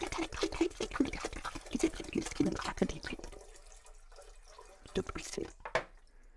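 Water poured into a cooking pot for making tea wine, a splashing and dripping stream for about three seconds, then fainter trickles and drips, with a person talking over it.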